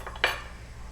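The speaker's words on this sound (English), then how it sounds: "you just stir it in" Metal utensil clinking against an Instant Pot insert while one-pot pasta is stirred: a couple of quick, close scraping clanks, then quiet.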